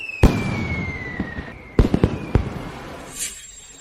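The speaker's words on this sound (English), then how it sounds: "Watch the fireworks." Fireworks bursting overhead at an anniversary outing: a sharp bang, then a cluster of three or four quick cracks, a whistling rise fading across the sky, and a final fizzing burst trailing off, fairly close and loud with no talk.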